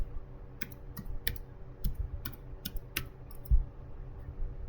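Keystrokes on a computer keyboard as a touch command is typed in a Linux terminal, a steady run of light, close clicks in small bursts with brief pauses between them, no voices over them.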